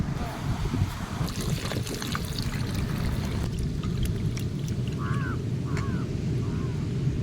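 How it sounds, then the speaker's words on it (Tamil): Water poured over freshly cut sea conch outdoors, a continuous trickling and splashing pour against steady background noise, with a few crow caws heard toward the end. "இப்போ நம்ம 65 போகிறதுக்காக தண்ணி ஊற்றி நல்லா க்ளீன் பண்ணிக்கிறோம்"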